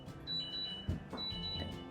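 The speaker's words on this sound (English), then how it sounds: "Diabetes alarms going on." A diabetes monitor alarm beeps softly indoors in short, faint, high repeated tones over quiet room noise.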